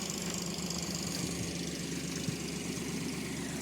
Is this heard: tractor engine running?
yes